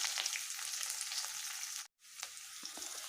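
Ingredients browning in a pan for matar nimona, a dense close sizzle of frying oil that cuts out briefly, then resumes with a few soft stirring ticks.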